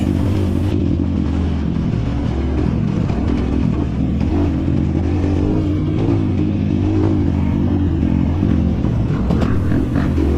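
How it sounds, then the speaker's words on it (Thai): An enduro motorcycle lifts into a wheelie on a muddy rural trail after fresh rain, its engine a loud, continuous close rumble that rises and falls with throttle, alongside clattering. "นี่จังหวะนี้ก็ยกล้อเล่นไปซะเลย"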